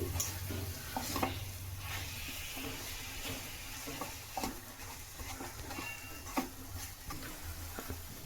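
Grated coconut and jaggery being stirred in a pan while the jaggery melts for laddu: quiet, close scraping strokes with intermittent soft ticks and a faint sizzle, spread evenly with no speech.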